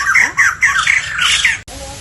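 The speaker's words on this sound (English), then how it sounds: "They're white crested, laughing thrush." White-crested laughingthrushes at a bird park give loud, harsh squawking calls in a rapid series of bursts, close and alone for about a second and a half before cutting off.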